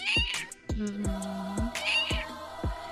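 A cat meows repeatedly, a couple of drawn-out calls over a series of low, regular thumping knocks, close and fairly loud.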